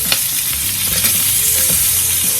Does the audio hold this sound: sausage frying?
yes